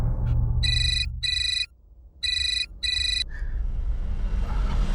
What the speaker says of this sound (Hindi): एक फोन है।